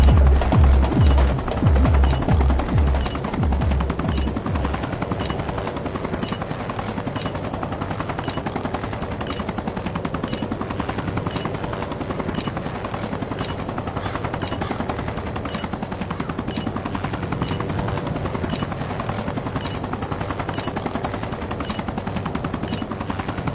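An enemy helicopter in a combat video game throbs loudly and continuously, its rotor pulse thick and steady throughout, joined by rapid bursts of machine-gun fire and scattered gunshots.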